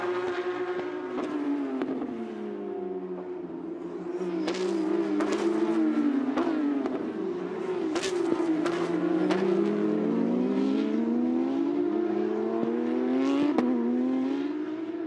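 Porsche GT3 Cup race cars scream through the turns at Sonoma Raceway, several engines layered and continuously loud, pitch rising and falling with each upshift and downshift as the pack chases through the corners.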